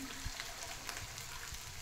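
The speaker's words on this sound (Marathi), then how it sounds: "पहा, इकडे मसाला परतत आहे." Masala spice paste sautés in a pan on a gas stove, giving a steady soft sizzle and crackle with faint stirring scrapes, low in level and without talk.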